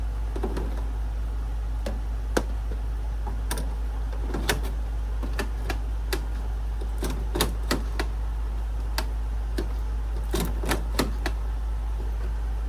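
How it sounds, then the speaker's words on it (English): Ink cartridges are pulled up and out of an Epson P5000 printer being converted for DTF, giving sharp plastic clicks and snaps at irregular intervals over a loud, constant low hum. "since we have the 300 ml carts, we have to remove these, which all you will do is pull up and out"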